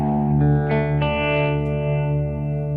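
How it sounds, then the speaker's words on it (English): Sustained electric guitar chords through a Kemper Profiler with low boost and low multiplier at +2, drenched in deep, boomy reverb, with thick low-end sustain and a few picked accents ringing out over a steady wash. "Gets this huge low-end reverb sound"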